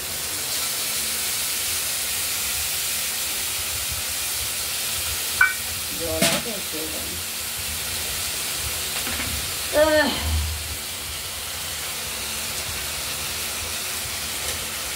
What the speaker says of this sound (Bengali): লঙ্কা আর জিরে, এটা দিয়ে আমরা এর মধ্যে একটু কষানোর জন্য দেব